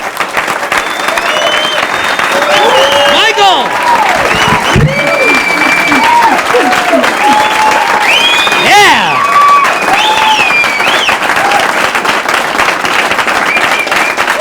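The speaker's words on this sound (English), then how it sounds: "A nice round of applause" A comedy club crowd at a 1988 stand-up show breaks into loud, sustained applause and whooping cheers as a comic takes the stage, with shouted calls and whistles rising over the constant clapping throughout.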